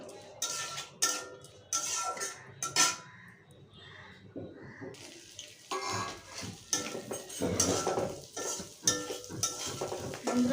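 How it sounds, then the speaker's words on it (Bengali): Shrimp frying in oil in a pan, with sizzling under repeated scraping and stirring of a metal spatula, clanking against the cookware at close range and moderately loud throughout. "চিংড়ি মাছগুলো ভালো করে ভেজে নেব।"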